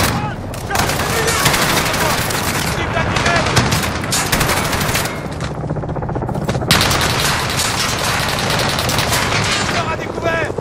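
Sustained automatic gunfire from a machine gun in the Call of Duty Modern Warfare video game, loud dense bursts and explosions filling the whole stretch with barely a pause, a short lull midway before firing resumes.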